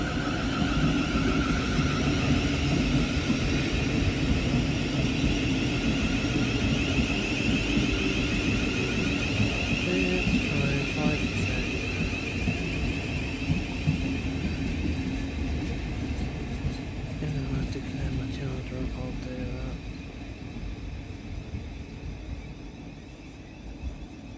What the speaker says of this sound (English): Next into the station is 700 120, working the 1732 Govia Thameslink service from Brighton to Bedford.